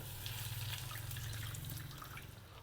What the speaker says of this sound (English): We add in water. Add in 250 milliliters of water.